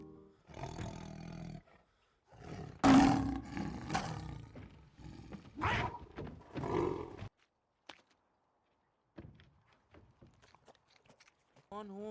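A tiger roars in the film Life of Pi, with several loud, deep roars and growls close up in the first seven seconds. Quieter rustling and brief sounds follow.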